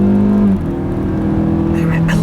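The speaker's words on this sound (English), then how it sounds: "I love the sound of this engine." A 2018 Mazda CX-5 crossover's 2.5-liter Skyactiv engine in sport mode pulls hard with a steady, droning hum, its pitch shifting as it gets up to speed. The engine note is continuous and close, and a voice murmurs faintly underneath.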